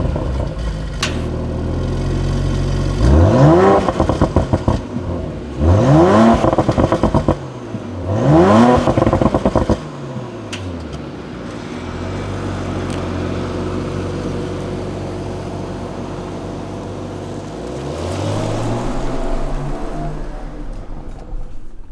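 Engine of a 2019 Audi RS5 Sportback started and revved: three loud, close throttle blips rising and falling in quick succession, then a steady idle, then a final softer rev, with no speech.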